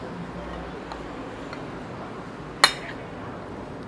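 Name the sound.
mixing a freshly mashed seafood dish, clinking dishes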